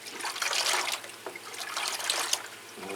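Warm water pours steadily from a jug into an orchid feed mix, a continuous close trickle and splash running for about three seconds with a slight lull midway, no voices.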